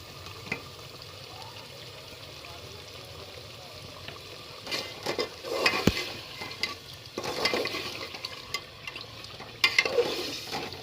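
Halwa kaddu fries in oil in a pan while being stirred, a soft sizzle underneath with intermittent scraping stirs growing busier toward the end.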